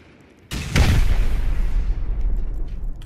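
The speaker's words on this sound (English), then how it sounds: "Rocket. Alright, rocket." A Rust rocket blast hits during an online raid by a ten-man group: a sudden deep boom, then a second heavier explosion, with a loud rumbling roar that lingers and slowly fades.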